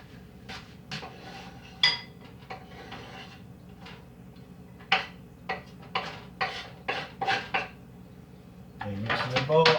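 A spoon clinks and scrapes against a bowl as finely chopped onion is mixed in a home kitchen, a series of sharp taps and knocks that grow busier near the end, with a low background hum.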